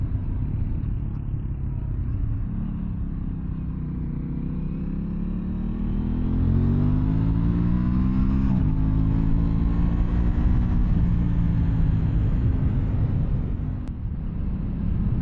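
A 2023 Aprilia Tuono 660 Factory motorcycle engine hums steadily while riding, a continuous low rumble that swells slightly partway through and holds, with no talking.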